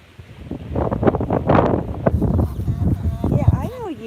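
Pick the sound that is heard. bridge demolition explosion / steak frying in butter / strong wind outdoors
strong wind outdoors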